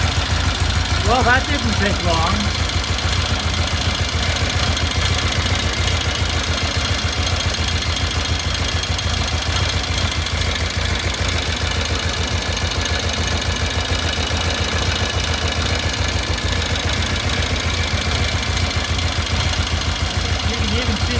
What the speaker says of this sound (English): so we're going to open the door and start the bike